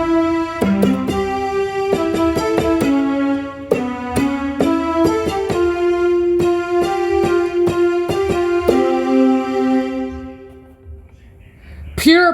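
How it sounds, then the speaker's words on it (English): Flute voice preset on a keyboard synthesizer playing a melody of distinct notes with breathy tone, some short and some sustained, ending in a held note, with no talk. "It's the sound of the flute."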